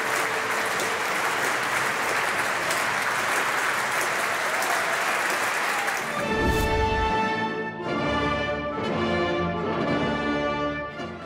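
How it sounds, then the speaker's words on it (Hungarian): Dense applause from a concert hall audience after a performance of Beethoven's Ninth Symphony, sustained and full, then joined by a few bright tonal sounds from the stage partway through. "a szerző zsenialitása pedig végül percekig tartó tapsban volt mérhető."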